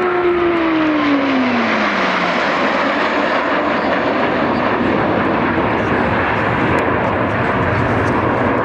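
A display team jet at the Waddington 2011 air show streaks past at just over 400 knots, its loud roaring engine note sweeping downward as it passes, then a sustained heavy rumble fills the rest of the clip.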